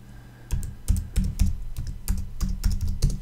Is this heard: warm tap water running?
no